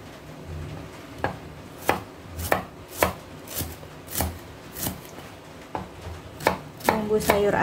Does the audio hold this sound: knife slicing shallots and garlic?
yes